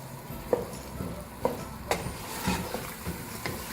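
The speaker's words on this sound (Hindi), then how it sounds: "दाल को हम तेज़ आंच से भूनेंगे" Soaked mash dal (urad lentils) roasting in a pan over a high flame, a low sizzle with several distinct stirring scrapes and knocks at irregular intervals, close up and with no talking.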